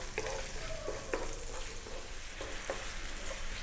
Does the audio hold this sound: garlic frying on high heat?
yes